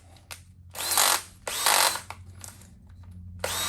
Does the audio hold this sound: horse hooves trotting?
no